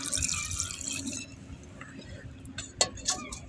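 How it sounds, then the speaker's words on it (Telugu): Water pours into a vessel of dosa batter in a home kitchen with a soft, close trickle, followed by a few distinct drips and splashes near the end. "ఇప్పుడైతే వాటర్ పోసుకుంటున్నాను."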